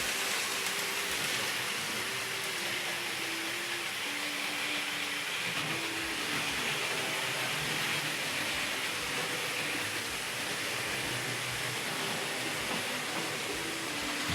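A Hornby Class 47 model locomotive pulling Mk2 coaches rumbles steadily along, with a continuous rolling whir and faint clicking over pointwork, no voices.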